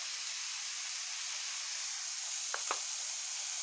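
Potatoes seasoned with spices and salt sizzle steadily in a pan, a soft continuous hiss with two brief sharper pops near the end.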